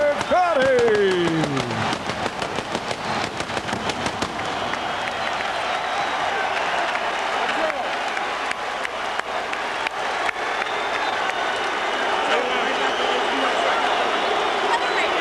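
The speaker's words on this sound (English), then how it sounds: "a round of applause for Irish Micky Ward and Arturo Thunder Gatti" A boxing arena crowd after the third Arturo Gatti vs Micky Ward fight gives broad, sustained applause and cheering that starts with sharp, rapid claps and settles into a continuous roar, while an announcer's voice carries over it.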